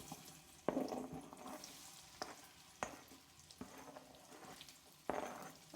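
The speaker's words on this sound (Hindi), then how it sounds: "आलू फ्राई कर लेने" Potatoes fry in oil on a medium flame, giving a soft, steady sizzle broken by several sharp clatters of stirring against the pan.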